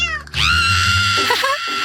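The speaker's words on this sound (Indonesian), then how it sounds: "Oh, sini, kucing manis." A cat gives one long, drawn-out meow, close and fairly loud, with a quiet rustle before it and a small wavering note near the end.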